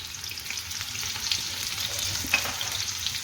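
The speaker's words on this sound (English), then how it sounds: "Let's add the onions, and let's just saute the onions." Onions with salt sautéing in a hot pan for a Birmingham-style balti curry, a steady close sizzle and crackle running the whole time with a few brighter pops.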